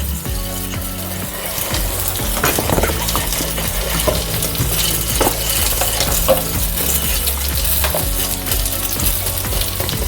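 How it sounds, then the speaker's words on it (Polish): Flour toasting in melted butter sizzles steadily in a pan while a utensil scrapes and clicks through it in quick irregular strokes, close and continuous, with no voices. "Podsmażam po prostu tylko mąkę przez dosłownie 10 sekund."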